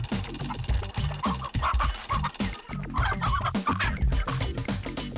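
Cartoonish chicken clucks and gobbling squawks from the video game Mort the Chicken, repeating in quick bursts over a busy, loud game soundtrack with no talking.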